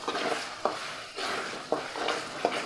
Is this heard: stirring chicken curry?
yes